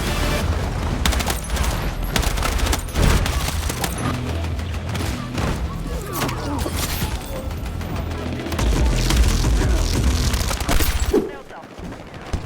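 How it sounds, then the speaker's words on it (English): Tank cannon fire in the Battlefield video game, heavy booms amid continuous battlefield gunfire and explosions, loud and dense throughout, with a deep blast rumbling in the low end before the noise drops away near the end. "That's a tank."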